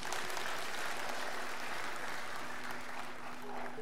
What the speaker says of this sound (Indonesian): Tepuk tangan buat sahabat-sahabat sekalian.